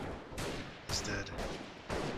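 Shots crack out in a war video game, a sniper rifle among them, as a series of loud, roughly evenly spaced reports each about half a second apart, with a short metallic ring after one, over a background of battle noise.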